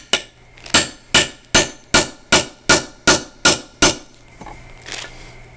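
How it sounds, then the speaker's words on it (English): A hammer pounds a grommet setting tool on a tarp, about ten sharp, evenly paced metallic strikes close up, then a few softer handling sounds. "You get your pounding tool"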